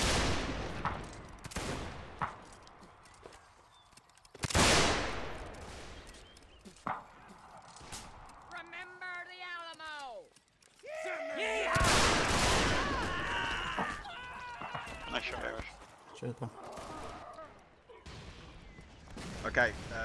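Musket volleys in a North and South siege battle game, several sharp loud cracks and scattered shots from near and far, with people talking between and over the firing.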